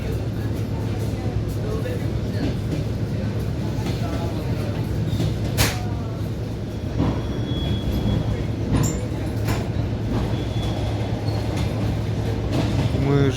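Summer passenger train from Syzran to Samara with a steady, close rolling rumble of wheels on rails throughout, with brief higher squeals and clicks over the continuous track noise.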